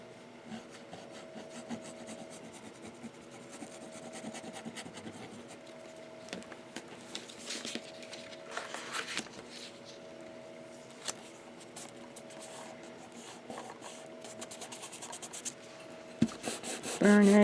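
Steady rubbing and rasping of a burnishing tool pressed over glued chipboard on a briefcase-style album binding, continuous and close with bursts of harder scraping and a louder scuff near the end.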